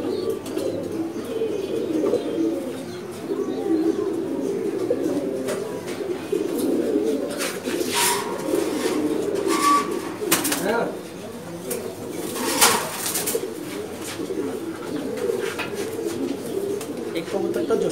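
Red-necked pigeons in a breeding loft coo continuously at moderate loudness, mixed with occasional chirps and brief wing flaps, with voices talking faintly beneath.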